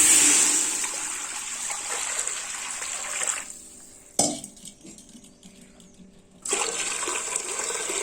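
Steady rushing of water poured into a metal pot for papad batter, a clank of the vessel, a quieter stretch, then the pouring resumes loudly.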